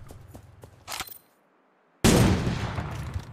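Gunfire in the Cyber Hunter game: a few faint shots, a brief sharp crack, a short silence, then a loud sustained burst of firing.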